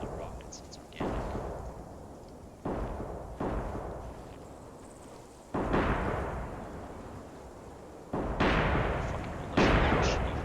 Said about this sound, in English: Fucking militia, shitty fucking rockets